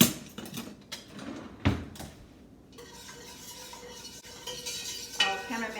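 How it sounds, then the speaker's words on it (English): Whisk stirring cheese sauce for lobster mac and cheese in a pot, with close metallic scraping and swishing strokes, some sharper clinks, and no talking. "I think I need a whisk."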